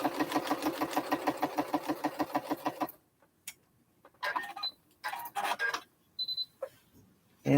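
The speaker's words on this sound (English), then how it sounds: "I'm going to sew 1/4 inch." A sewing machine stitching a quarter-inch seam on quilt blocks, a fast steady mechanical chatter for about three seconds that then stops, followed by quiet handling clicks and small rustles nearby.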